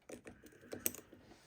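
A lock pick zips quickly across the pins of a Euro cylinder lock, giving a faint, fast run of small metallic clicks over about a second and a half, with no one speaking.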